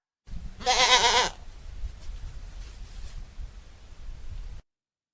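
A goat gives one loud, wavering bleat up close, followed by a soft, steady background hiss.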